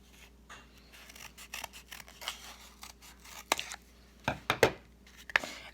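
Scissors snipping a cardboard toilet paper roll to cut a fin for a tropical fish craft, a series of close, crisp cuts that grow louder and quicker toward the end.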